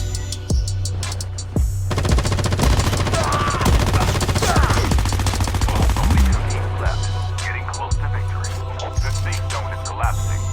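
Loud, rapid automatic gunfire and single shots crack through a video game squad fight on slopes and cliffs, coming in dense overlapping bursts that continue throughout with little pause.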